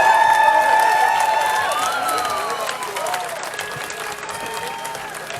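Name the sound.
applause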